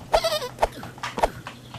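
Sheep in the Home Sheep Home video game bleat in two or three short, close, nasal calls spaced about half a second apart over a low background tone.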